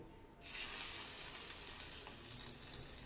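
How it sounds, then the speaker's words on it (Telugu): Asafoetida, mustard seeds and cumin drop into hot oil for a tempering for tamarind-coriander chutney, bursting into a loud, steady, hissing sizzle that starts abruptly and holds without letup. "ఈ పోపు ఇంగువ ఆవాలు జీలకర్ర ఇంగువ అంతే"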